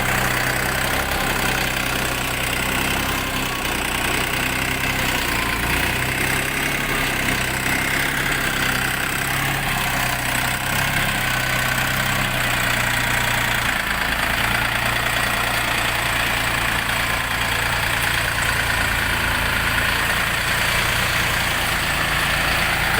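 A Dongfeng 244 mini tractor's small diesel engine idles steadily with a low chugging rumble, constant and close, with no voices over it.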